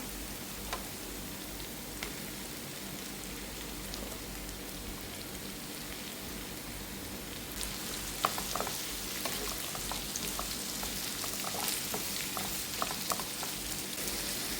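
Chopped onions and curry leaves fry with ginger and garlic while prawns are being roasted, giving a soft, steady sizzle that grows busier partway through, with scattered crackles and pops.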